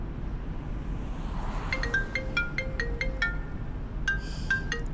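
A mobile phone ringtone plays a bright, repeating electronic melody up close for a few seconds over a low background hum, pausing briefly before the tune starts again.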